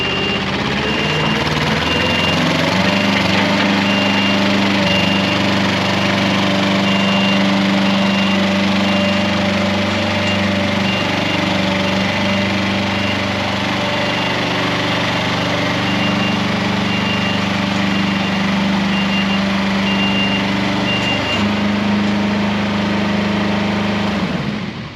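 The engine of a CTE Traccess 230 tracked spider lift, a compact 75 ft machine, runs steadily and loud for the whole stretch with a constant droning hum, close by with no talk.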